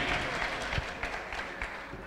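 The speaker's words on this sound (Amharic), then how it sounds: "ሁሉልታ ጭብጨባ ለኢየሱስ ክብር" Scattered clapping and faint ululation from a church congregation during a prophet's deliverance service, fairly distant and moderate in level, with some voices mixed in.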